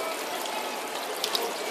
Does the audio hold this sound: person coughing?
no